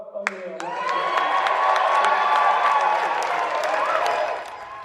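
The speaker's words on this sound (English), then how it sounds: "This was the crowd this evening when they officially said his name, Buck O'Neil" A crowd at the Negro Leagues Baseball Museum cheers, whoops and applauds as a new Hall of Famer is announced, a loud sustained roar with clapping that swells after a second and holds before easing off.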